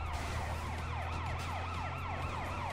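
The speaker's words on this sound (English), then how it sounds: "here comes like an ambulance" An ambulance siren in the video game Sleeping Dogs wails in fast, repeating rising-and-falling sweeps, loud and continuous over a steady low engine hum, with no voices.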